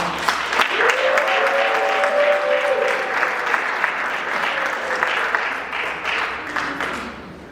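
Loud, sustained audience applause and cheering at a Jamaican heritage celebration, a dense wash of clapping from a large crowd with a few whoops rising above it, gradually thinning toward the end.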